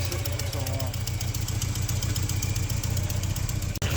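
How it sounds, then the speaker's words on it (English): Porsche 944 engine running with a noisy power steering pump, a steady mid-pitched idle hum with a rhythmic clattering pulse, close and continuous, briefly cutting out near the end. "Our steering pump is making noise"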